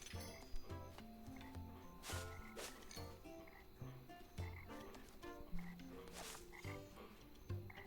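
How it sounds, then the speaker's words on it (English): Cartoonish frogs in a moody night swamp in The Plucky Squire croak in a layered, harmonizing chorus, repeated throaty calls stacked over a busy game music bed, steady and fairly close throughout. "Check out those singing frogs."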